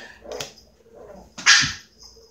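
A puppy playing rough with a kitten gives a couple of short, sharp barks close by, the second louder, with soft rustling between, no talking.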